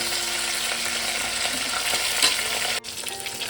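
Tilapia fish pieces frying in hot oil in a home kitchen, a loud, dense, continuous sizzle with a brief dip near the end.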